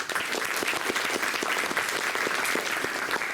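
A welcoming round of applause for a guest speaker, a Wing Commander, at an alumni talk: dense, steady clapping from a crowd filling the whole span at even loudness, with no voices over it.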